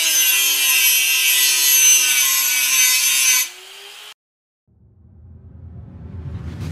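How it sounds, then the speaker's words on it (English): A high, whining saw buzz grinds steadily through wood for a few seconds, cuts off abruptly, and after a brief silence a low rumbling noise rises. "It's a buzzsaw that they cut in that wood"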